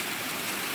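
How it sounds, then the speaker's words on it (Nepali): Swollen rainy-season water rushes fast through a forest stream near Darjeeling, making a loud, continuous broadband roar heard close by. "यस्तो खतरनाक पानी बगिरहेको छ यहाँनिर"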